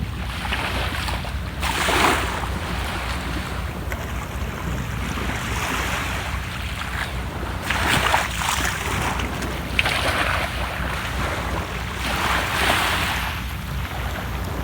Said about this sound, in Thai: ฟังเสียงคลื่น